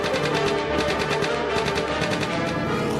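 Aircraft machine gun fire, a continuous loud rapid rattling burst of shots at close range, with no talk.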